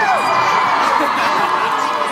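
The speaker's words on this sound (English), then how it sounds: "special cheer here please" Crowd at a Twilight Saga: Breaking Dawn Part 1 film premiere in Stratford, London, cheering and whooping in a loud, steady roar that fills the whole clip, with high shrieks rising above the mass of voices.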